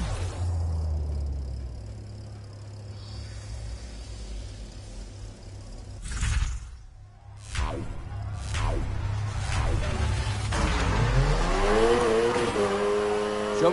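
A car engine revs hard with tire squeal as the driver floors it to kick the car into a drift, a loud sustained roar that dips briefly mid-way before climbing again in rising pitch sweeps.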